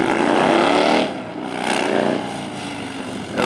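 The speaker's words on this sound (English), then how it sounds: "Now the bike sounds awesome." A Springer Softail motorcycle engine revs loudly nearby, surging hard, easing off, swelling again and then picking back up at the end.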